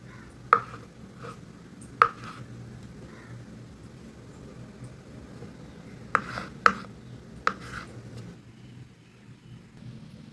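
Sharp knife cuts slice taro root on a board one at a time, irregularly spaced, a handful of crisp chops against a low background hum.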